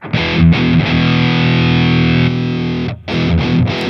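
A heavily distorted electric guitar chord through a Boss Katana amp rings out loud and sustained, briefly cuts, then returns in short chugging bursts.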